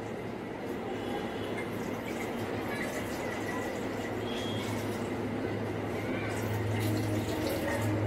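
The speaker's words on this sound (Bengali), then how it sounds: "আর এখানে খানিকটা জল অ্যাড করে দেবো।" Water is poured into a pressure cooker fitted with a raised stand, a steady running and filling wash that lasts throughout under a low background hum.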